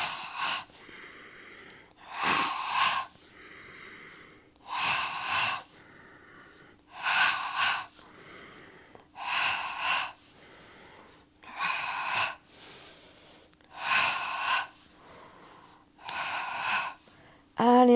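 Forceful breathing during a Pilates workout, a steady pattern of about eight sharp, loud breath bursts in pairs separated by short pauses, close to the listener, with an instructor speaking between breaths.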